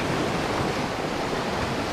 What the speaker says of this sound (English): That water, that little stream right there is what starts up there by Potato Patch